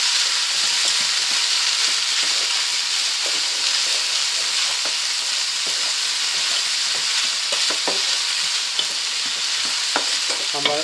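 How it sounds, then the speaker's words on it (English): Rice stirred into browned mince sizzling in a pan for a bolognese risotto, a loud continuous frying hiss broken by repeated scraping clicks of a spoon against the pan; no talk. "I'm going to put in the rice and give that a good mix in"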